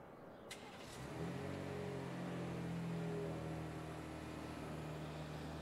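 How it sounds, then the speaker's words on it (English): A 2025 Ram 1500 RHO with a twin-turbo inline-6 starts by remote: a brief click, then the engine catches and settles into a low, quiet, steady idle heard from a short distance. "the startup of the RHO's twin-turbo inline-6 is not nearly as rambunctious as the outgoing TRX's supercharged V8"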